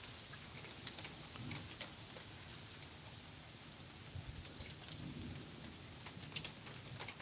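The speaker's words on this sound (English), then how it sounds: "the rain just started again, Peter." Steady rain patters outside, heard from beneath house eaves in town, a dense continuous wash with occasional sharper drips standing out.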